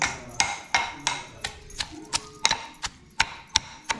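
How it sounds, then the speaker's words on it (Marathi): Green chilies being pounded into a coarse thecha, a dozen sharp thuds falling at a steady rhythm roughly every third of a second, close up and fairly loud with nothing else heard. "मस्त ठेचून घ्यायचा ठेचा।"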